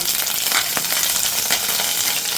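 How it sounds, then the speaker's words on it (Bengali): Dried chillies fry in hot oil, sizzling and crackling steadily and close up, a constant frying hiss with occasional pops. "তেলটা মোটামুটি গরম হয়ে গেছে এরপরে আমি প্রথমে দিয়ে দিলাম এটার মধ্যে দুটো মতো শুকনো লঙ্কা"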